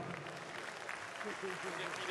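An audience at the Coupe du Monde de la Pâtisserie 2013 applauds the president of the French Pastry Federation. The clapping is a steady, moderately distant patter, and a voice speaks over it toward the end.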